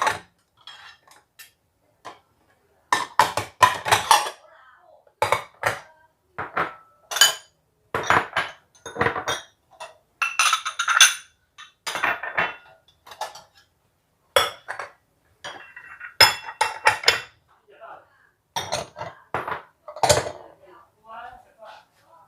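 Plates and bowls being washed by hand at midday, with sharp ceramic clinks and clattering knocks in irregular bursts separated by short pauses, close up.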